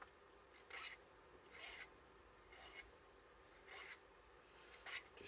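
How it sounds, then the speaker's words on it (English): A steel nail tip is sharpened with a file, making a series of short rasping strokes in a steady back-and-forth rhythm, close and fairly quiet. "Just sharpening off the tip of a nail, so I can shove it in there and give it a good old scratch up."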